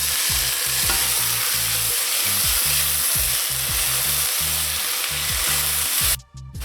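Beans going into a pot for Jamaican rice and peas, with steady stirring and scraping over a continuous sizzling hiss, close and loud, ending in a brief sharper clatter.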